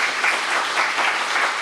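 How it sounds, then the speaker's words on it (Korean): A Sunday worship congregation applauds to welcome a church member, a dense, bright, continuous burst of clapping that fills the short span at a strong level. "김규리 성도님 잠깐 일어나시면 박수로 환영하겠습니다."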